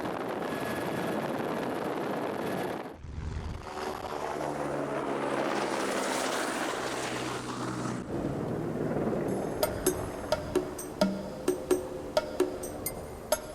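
Helicopter spraying over a locust swarm, a steady rotor and engine roar that swells and shifts, then gives way to a series of sharp rhythmic thumps near the end.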